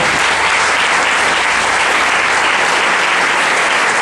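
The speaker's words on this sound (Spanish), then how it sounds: "Dale fuertes palmas aquí, hermano." A church congregation claps hard and fast in praise, a loud, continuous roar of hands that holds steady throughout without any voice on top.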